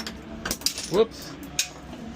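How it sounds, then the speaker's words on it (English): A metal nut falls onto the ground during a ball gate repair on a basketball arcade machine, giving a few sharp, light metallic clinks and bounces spread over a couple of seconds in a quiet room. "Keep an eye on your nuts when they fall on the ground"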